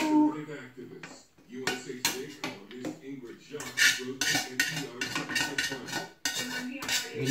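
Pork hock and white beans stirred in a metal pot, with repeated clinks and scrapes of a utensil against the pot running throughout, mixed with a cook talking over the clatter.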